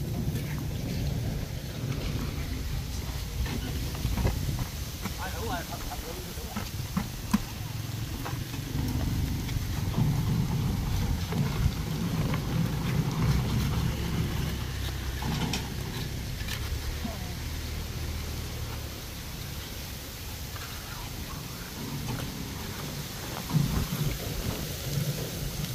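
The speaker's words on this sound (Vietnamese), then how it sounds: "Mưa mát không sao đâu." Steady rain pours and low thunder rumbles during a concrete pour for a bridge railing in a rural commune, a continuous wash of downpour noise with deep rolling swells, and people talking nearby.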